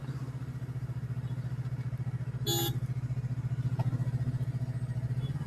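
Road traffic on a road under construction between Kerala and Coimbatore: a steady close engine drone with a brief horn honk partway through, no talking.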